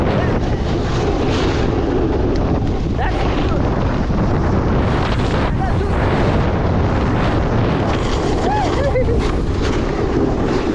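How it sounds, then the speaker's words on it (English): Loud, constant wind buffeting the microphone in heavy gusts on a mountain while snowboarding, with a voice faintly audible underneath. "It's windy up here."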